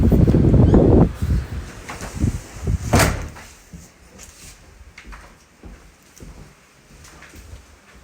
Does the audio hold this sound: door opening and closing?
yes